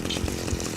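A chainsaw from the video game Manhunt roars steadily for under a second, a dense buzzing motor sound with a continuous gritty texture, no voices.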